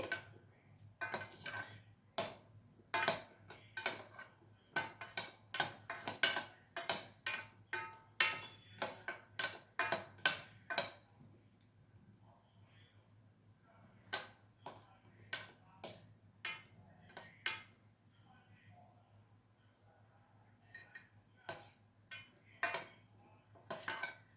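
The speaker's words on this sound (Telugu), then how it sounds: "ఇలా కలుపుతూ ఉంటే అదే మెల్ట్ అయిపోతుంది." A spoon stirs soap base melting in a pan over boiling water, giving a series of close, sharp metallic scrapes and clinks in irregular bursts with quieter pauses between, and no talk.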